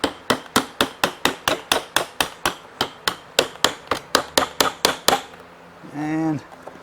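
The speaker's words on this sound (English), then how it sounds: "So then we'll just tap that in." A Mercedes R172 armrest part is tapped into place with about twenty quick, evenly spaced sharp knocks close by, followed by a brief rising whine.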